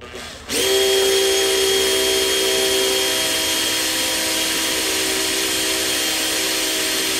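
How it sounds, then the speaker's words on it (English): A power drill bores a hole to mount a motorcycle trailer lamp, spinning up sharply and holding a loud, steady whine with bright tonal harmonics for several seconds, with no talk. "Right, we can drill that hole now."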